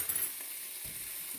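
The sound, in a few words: breaking up canned salmon in a frying pan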